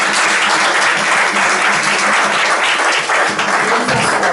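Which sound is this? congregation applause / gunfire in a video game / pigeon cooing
congregation applause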